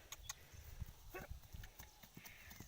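Horse running, hooves clip-clopping in a quick uneven rhythm of close, distinct thuds, with brief voices and outdoor background noise around them.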